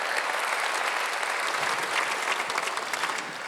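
A church congregation at a Korean Sunday worship service claps together in dense, sustained applause, loud and even from start to finish.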